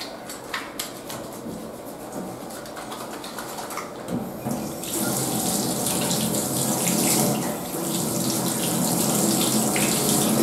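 Tap water runs steadily into a scrub sink trough during the rinse stage of a surgical hand scrub, a continuous splashing flow that grows louder and fuller about halfway through.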